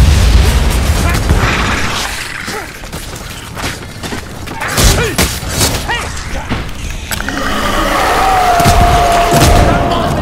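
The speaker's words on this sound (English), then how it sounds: "Grenade, get down!" A grenade explodes in the game Vermintide 2, a loud, rumbling blast with debris and combat noise that stays busy throughout, with voices shouting over it.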